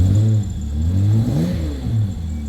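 A car fitted with a new, cheap aftermarket exhaust revs up close by, a deep throaty rumble rising and falling through two or three throttle blips, with no talk.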